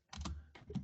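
A few quick keystrokes on a computer keyboard, faint and close, four or so soft clicks in under a second while entering an IP address, no talk.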